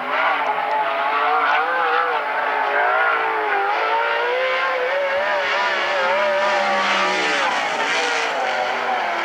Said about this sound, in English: one more car to qualify, the number 9R, Reese Getz.